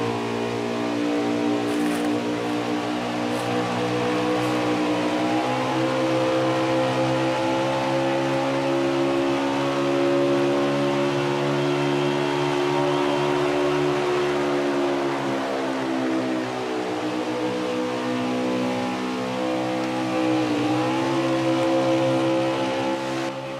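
Race cars drone around a 1.5-mile oval at Kentucky Speedway in a sim racing game, a steady, loud engine roar that swells and dips slightly as the pack circles, continuous throughout.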